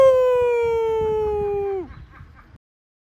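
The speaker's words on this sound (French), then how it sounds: "Tu mets des sirènes" A single siren wail holds a steady pitch with bright overtones, then drops sharply and cuts off, followed by a brief stretch of faint low rumble.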